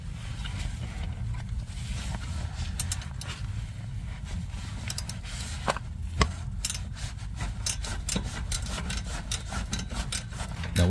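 A rear brake rotor on a Hyundai Sonata is slowly worked off its hub, giving irregular metallic scraping, rubbing and small clicks that come in short bursts close by.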